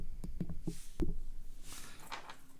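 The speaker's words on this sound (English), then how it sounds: "I will tap on it with a hammer" Several sharp taps of a hammer strike a hard surface close by while restoring a key organizer's hardware, irregularly spaced, followed by softer rustling and handling sounds.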